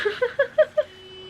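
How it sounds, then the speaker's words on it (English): A car alarm goes off: five quick electronic chirps stepping up in pitch, then a thin, steady tone that lingers, heard at some distance. "something has set off the alarm on my neighbor's car"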